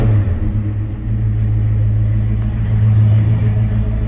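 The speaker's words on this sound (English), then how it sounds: "You just give it one good, quick stab of the throttle" A Chevrolet C-20 engine rumbles loudly up close, its low steady drone swelling briefly under a quick throttle stab before settling back, with no one speaking.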